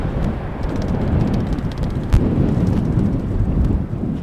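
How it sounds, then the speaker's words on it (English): Bird-scaring fireworks go off at Schiphol airport as a low rumbling roar with one sharp distant bang partway through, all under heavy wind or engine noise. "we also heard some fireworks being set off by the Schiphol scarecrows, the bird controllers"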